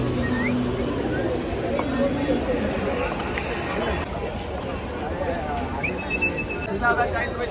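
Busy morning crowd at the Dadar flower market in Mumbai, a dense steady hubbub of voices and footsteps close around, with scattered calls and clatter continuing throughout.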